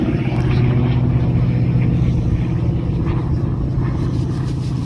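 A warbird aircraft flies an aileron roll at the Warbirds Over Wanaka 2026 airshow in New Zealand, a loud, steady, droning engine roar that holds constant throughout with no break.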